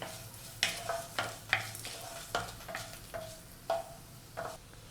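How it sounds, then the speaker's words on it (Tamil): Garlic and tamarind dry-roasting in a pan for mudakathan keerai chutney: soft repeated spatula scrapes come roughly every half second over a faint, low sizzle, close by, with no talking. "பூண்டு, புளி இது வந்து நல்லா வறுபடணும்"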